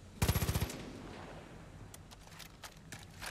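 Automatic gunfire in the video game Far Cry 5: a short, loud burst of rapid shots near the start, then quieter scattered pops and faint action noise.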